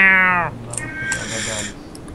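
A cat meows once, a close, clear meow with falling pitch, followed by a softer trailing cry and faint background noise during a card game.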